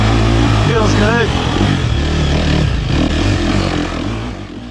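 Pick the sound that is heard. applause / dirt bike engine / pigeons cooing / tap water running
dirt bike engine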